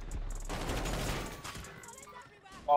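Gunfire in Call of Duty Warzone, a dense crackling burst of shots for about a second that fades into echoing tails, with faint voices under it.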